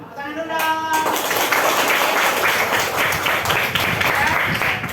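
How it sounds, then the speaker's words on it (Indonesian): Classroom audience applauding after an Indonesian teacher-training class calls up the first group to demonstrate the funeral prayer; dense, steady clapping runs loud for about four seconds after a brief voice at the start. "Tepuk tangan dulu dong."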